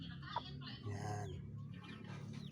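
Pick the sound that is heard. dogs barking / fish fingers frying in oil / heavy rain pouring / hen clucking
hen clucking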